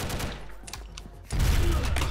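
Rapid gunfire bursts from the online shooter game Combat Arms, first as scattered crackling shots, then as a louder sustained volley that continues to the end.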